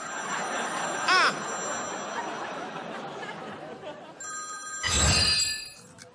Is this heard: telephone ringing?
yes